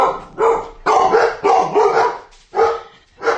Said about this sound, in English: They're barking at somebody.